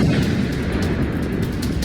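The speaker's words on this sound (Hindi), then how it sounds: "फिर होता है एक जोरदार धमाका।" A bomb planted in the ground by Russian soldiers in Ukraine war footage detonates with a loud, heavy boom that rolls on as a continuous deep rumble.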